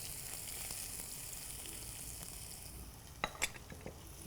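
Onion and curry leaves frying in a pan for an Andhra-style mushroom and sesame fry, a steady soft sizzle with a few sharp clinks of a utensil near the end, no talking.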